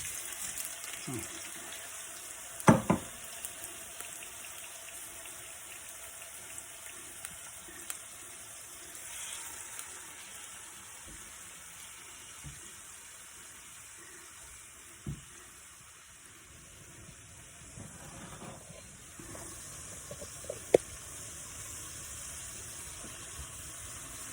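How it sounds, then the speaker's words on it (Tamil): Oil sizzles faintly and steadily as shrimp fry, with occasional clinks and scrapes of a utensil stirring, and a brief louder clatter early on. "இறால பொரிக்க போடுவோம், ஃப்ரை பண்ண போடுவோம்."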